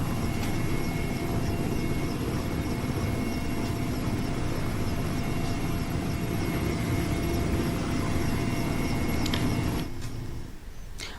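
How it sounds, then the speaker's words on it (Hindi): Indian Air Force Western Command rescue helicopter working over flood-hit areas, a steady loud rotor and engine roar filling the whole stretch before easing slightly at the very end. "वायुसेना की पश्चिमी कमान के हेलीकॉप्टर लगातार इस अभियान में जुटे हुए हैं।"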